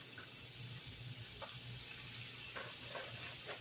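Frozen peppers and onions hit cooked hamburger meat in a hot pan, producing a steady low sizzle and hiss with occasional stirring scrapes, fairly faint.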